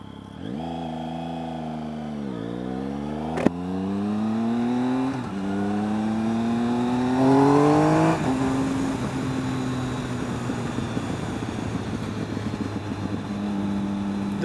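A 2013 Triumph Speed Triple motorcycle on a test ride, its three-cylinder engine revving up through the gears with rising pitch, easing off, then pulling hard again before settling into a steady drone with wind noise.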